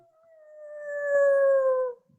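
A person imitates a werewolf howl, one long rising wail that swells and holds for about two seconds before breaking off, close and clear with no talk over it.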